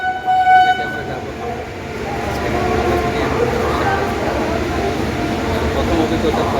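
A local train on a Tarakeshwar journey sounds a short, loud horn blast at a station, then the steady rumble and clatter of the passing cars carries on, with voices talking nearby.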